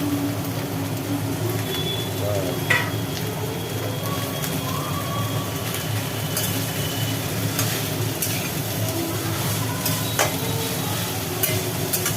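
Kulekhara greens dropped into a hot pan with papaya and potato, a steady close sizzle with occasional stirring scrapes and faint clinks throughout, no talking.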